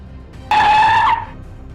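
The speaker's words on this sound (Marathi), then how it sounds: "ड्रायव्हरने गाडीचा कर्कचून ब्रेक दाबला" A car brakes hard and its tyres skid with a loud, sustained squeal lasting under a second, standing alone against quiet road noise.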